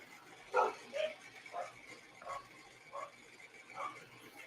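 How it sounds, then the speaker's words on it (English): Dogs barking and yipping in a run of about six sharp, spaced barks and yips, moderately close, over a quiet indoor background. "Dogs are going crazy."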